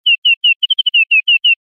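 Synthesized bird chirps from a Propellerhead Thor software synth patch: ten clean, bright descending tweets in a steady rhythm, with a quick triple flutter in the middle, alone against total silence.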